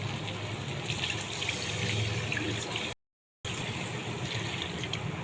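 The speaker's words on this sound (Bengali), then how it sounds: "পরিমাণ মতো জল দিয়ে দেবো।" Water runs steadily into a cooking pot of potato and pabda fish curry, a continuous close rushing pour that stops briefly and then resumes, with no voices.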